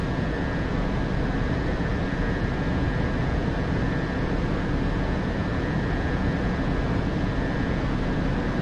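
Heavily loaded jet fighter in full afterburner in DCS World, a steady, dense, loud roar with constant rumble and a faint high whine holding unbroken throughout.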